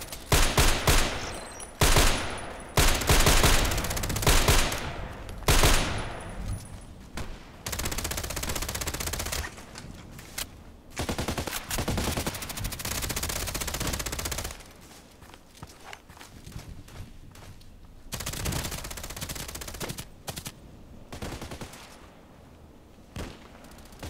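Gunfire in a sniper video game, with loud bursts of rapid automatic shots packed together and short pauses between them, along with footstep-like noises.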